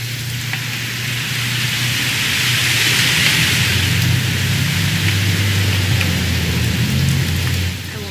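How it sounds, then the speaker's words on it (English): Steady rain falling in the video game What Remains of Edith Finch, a dense even hiss that holds throughout under a low continuous hum, with no talking. "It's gonna rain the whole weekend, isn't it?"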